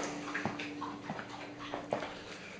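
A tired dog whimpering softly during a run, several faint, short whines close by over a steady background hum.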